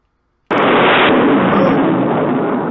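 In a naval warfare video game, a torpedo hit bursts in as a sudden loud explosion after a short silence, followed by a sustained rumbling roar that holds steady without fading.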